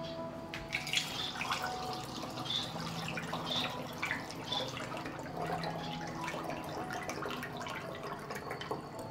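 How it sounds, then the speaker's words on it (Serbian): A prepared homemade drink poured into a bottle gives a continuous soft trickle with small splashes and drips, fairly quiet and steady for about nine seconds, with no voices. "ovako pripremljen napitak sipat ću u jednu flašu"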